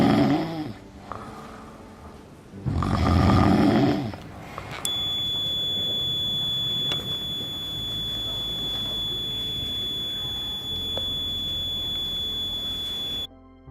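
Two loud, rasping snores sound close by in quick succession, followed by a steady electronic beeping alarm tone from a homemade snore-detecting circuit that holds for several seconds before cutting off.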